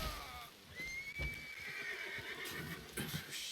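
A horse in a cowboy video game lets out a clear, drawn-out whinny, with hooves clip-clopping close by and a few scattered thumps.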